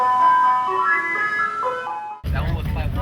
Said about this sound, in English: I hear the ice cream truck right now.